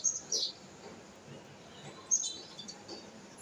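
Birds call near a home where cats are kept, giving a few short, high chirps early on and again around the middle, faint against a quiet background hiss.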